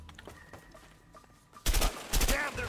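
Shotgun blasts in A Way Out, starting after a quiet stretch with a muffled hum and faint clicks, then several heavy, closely spaced booming shots near the end.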